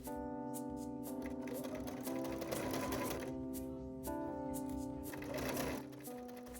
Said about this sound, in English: Stay stitching will also act as a guideline after it's sewn for sewing the curved edge and for clipping.